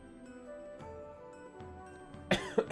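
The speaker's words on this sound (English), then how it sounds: "I'm trying to clear my throat." A person clears their throat and coughs a few times in a quick burst of harsh, close, fairly loud rasps after a stretch of quiet room tone.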